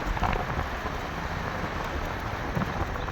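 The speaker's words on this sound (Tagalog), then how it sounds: "Ayan na yung ulan." Steady rain pours outdoors as a storm approaches, a dense, even hiss that fills the whole stretch without any voices.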